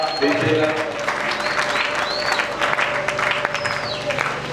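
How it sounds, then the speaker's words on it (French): A congregation applauds during a Sunday church service, producing a steady, dense wash of clapping that fills the room for the whole stretch, with a few faint voices mixed in. "Acclame très bien si tu es dans la joie."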